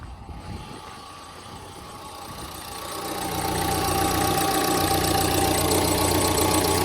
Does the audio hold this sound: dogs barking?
no